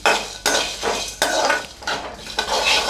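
Spices dry-roasting in a pan over a medium flame for biryani, stirred with a spoon in repeated scraping, clattering sweeps roughly every half second, close and fairly loud with no talk.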